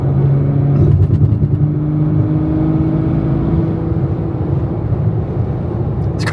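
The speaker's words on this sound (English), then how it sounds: "This car's so quiet. I know. It's a V12 and it's so quiet." Lamborghini Aventador V12 engine running smoothly at a steady, low, even hum, fairly loud and close, with faint road and cabin noise and no revving.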